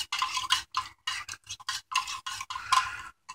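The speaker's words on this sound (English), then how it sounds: "So let's stir that and give it another minute." A utensil stirs rehydrating MCW beef stroganoff in its pouch, giving a close series of short, scraping, sloshing strokes in an uneven rhythm with brief gaps between them, and no voices.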